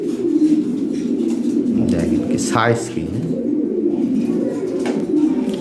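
High-quality fancy Lahore pigeons coo in a low, steady murmur that runs throughout, with a person talking over them at close range.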